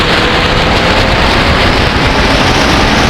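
A 2020 Yamaha MT-09 motorcycle rides along on a cold fall day, its engine a loud, steady, broadband roar mixed with heavy wind rush, continuous and close.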